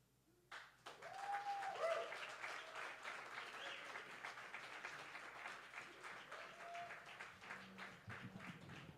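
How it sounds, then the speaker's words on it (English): Sustained applause from an audience at a poetry slam competition, a steady dense clapping that swells quickly and carries on throughout, with a few voices faintly rising over it. "Keep that round of applause going for Colin."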